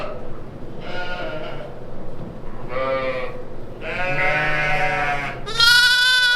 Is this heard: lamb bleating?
yes